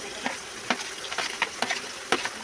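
Onions frying in hot oil in a pan, a continuous soft sizzle with intermittent stirring scrapes and clicks at irregular intervals, close and moderately loud, with no voices.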